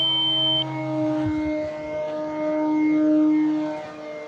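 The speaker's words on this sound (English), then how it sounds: "I'm gonna start flying the Carbon Z Cub" An E-flite Carbon Z Cub RC airplane flies overhead, its electric motor giving a steady tonal whine that rises and falls in pitch and loudness as it passes, heard at moderate distance alone.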